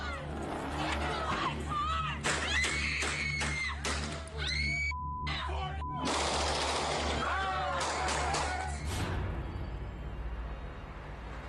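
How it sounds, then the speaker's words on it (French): Gunfire in a city street in broad daylight during an illegal car sideshow: sharp bursts of rapid shots crack over a loud, shouting crowd and rumbling car engines, then the noise thins out near the end. "Les échanges de coups de feu se produisent dans la rue en plein jour."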